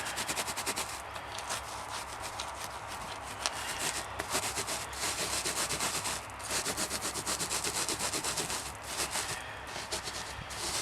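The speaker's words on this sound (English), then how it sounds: "I'm gonna rub it right in." Borax powder worked by hand into a deer tail being preserved for mounting, a steady close-up rubbing and scuffing texture that continues without a break.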